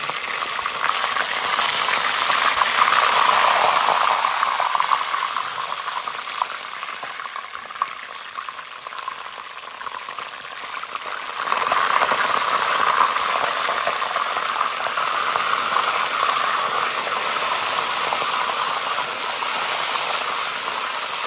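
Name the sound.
turkey meat cooking in a pot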